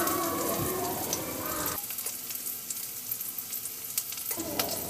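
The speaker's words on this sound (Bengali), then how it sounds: "পেঁয়াজ এবং রসুন বেশ বাদামি করে ভাজা হয়ে গেছে।" Onion, garlic and three green chillies fry in oil in a pan for a Bengali greens bharta, a close, steady sizzle with bubbling crackles and a brief stir partway through, no voices.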